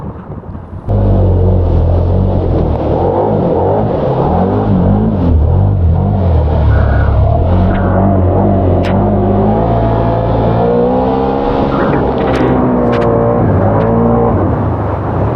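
A Can-Am Outlander XMR 850 ATV with new clutching and 30-inch Aztex XX tires holds a loud, sustained high-RPM engine drone, running in four-wheel drive low range sport mode with pitch wavering as it climbs.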